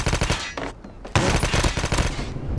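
AK-117 rifle fire in Call of Duty rattles in loud, dense rapid bursts, broken by a brief pause before the shooting resumes at full intensity.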